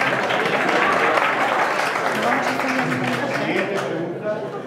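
Sustained audience applause at a Podemos Navarra primary debate for the party's General Secretary post, a dense, steady wash of clapping from a crowded room that tapers slightly toward the end, with a faint voice underneath.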